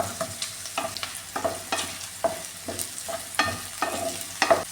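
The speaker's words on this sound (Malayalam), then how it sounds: "ഈ ഉള്ളിയൊക്കെ നന്നായിട്ട് ഒന്ന് വഴറ്റിയെടുക്കാം" Onions and green chillies are sautéed in a pan, giving a close, continuous sizzle with rhythmic scraping and clinking as a spoon stirs them around the metal surface, with no talking.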